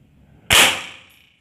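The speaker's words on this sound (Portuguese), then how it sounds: "Primeiro tiro" A single sharp shotgun blast at an outdoor shooting range, loud and close, after a quiet moment, followed by a decaying echo tail lasting under a second.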